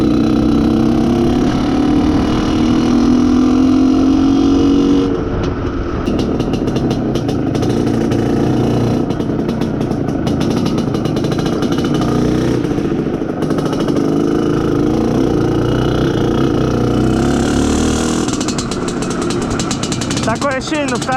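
An Izh Planeta Sport motorcycle engine, freshly broken in with a smoother feel, pulls steadily as the throttle opens, a continuous mid-pitched engine drone that stays loud throughout while someone talks over it.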